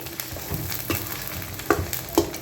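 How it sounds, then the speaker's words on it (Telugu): Salt being mixed into chicken bone pickle, close scraping and stirring strokes with a few sharper clinks over a low, steady sizzle-like rustle. "ఇదిగోండి, సాల్ట్ వేస్తున్నాను. ఇది 40 గ్రాములు అండి సాల్ట్. నేను కాటా పెట్టి వేసుకుంటున్నాను. ఒకసారి కలుపుకుందాం."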